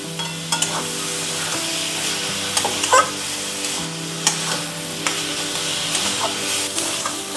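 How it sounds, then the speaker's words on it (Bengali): Fig curry with added water is stirred in a wok, giving a steady close sizzle with repeated scraping and knocking of the spoon against the metal at an uneven rhythm, and no talking is heard. "একটু তরল করার জন্য আমি এরকম জল দিয়ে নাড়ব, নাহলে জিনিসটা কিন্তু পুড়ে যাবে"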